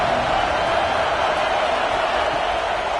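A college football stadium crowd roars in a steady, dense wash of cheering and noise, loud and continuous with no breaks.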